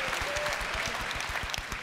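Sustained applause from an audience at the Ubisoft E3 2017 press conference, dense clapping filling the room evenly throughout.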